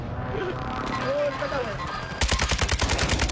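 Rapid automatic gunfire bursts in a shooter video game, loud and close, breaking in after a stretch of game ambience, with a player talking over it.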